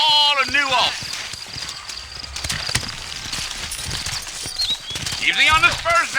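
In the video game Red Dead Redemption, horses gallop with steady clip-clopping hoofbeats running throughout, while someone speaks over the start and end.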